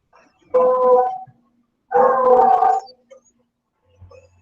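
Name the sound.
dog howling and whimpering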